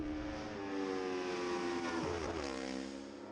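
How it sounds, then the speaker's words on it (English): An exotic, bespoke Italian-built racing motorcycle at the Manx Grand Prix howls past at high revs, its engine tone swelling loud and near, then dropping sharply in pitch as it sweeps away. "That engine absolutely howling, a really exotic, bespoke, Italian-built machine that Francesco's riding there"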